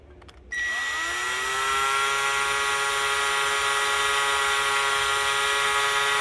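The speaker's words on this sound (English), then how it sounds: "we're going to drill these out" A power drill spins up sharply and holds a steady high-pitched whine for several seconds, close by, drilling parts on a Yamaha SX190 jet boat, with no talking.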